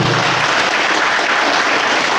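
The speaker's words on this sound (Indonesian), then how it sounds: "berikan tepuk tangan untuk Anda semuanya Bapak dan Ibu" Audience at a business seminar applauding, a dense, steady wash of clapping filling the room with no talk over it.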